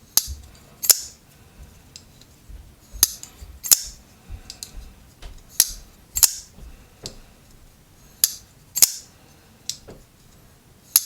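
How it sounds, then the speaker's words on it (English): Sharp, crisp clicks from the detent of a Cavol Ripback folding knife as the blade opens and snaps closed, repeated in pairs about a dozen times, close and clear against near silence. "The detent is tuned so well, right? Just hear it click when it goes back in."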